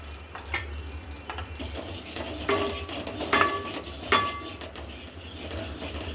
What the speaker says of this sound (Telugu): గసగసాలు వేయించేసుకుందాం. కొంచెం గ్రేవీకి సరిపడా గసగసాలు కొంచెం వేయించుకుందాం.